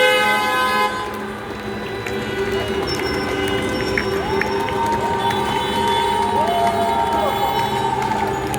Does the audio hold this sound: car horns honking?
yes